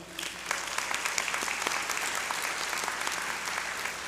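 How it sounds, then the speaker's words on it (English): Large crowd applauding at a law school hooding ceremony, a sustained wash of many hands clapping with scattered louder claps, fairly even and moderately distant, no speech over it. "let's give them a round of applause"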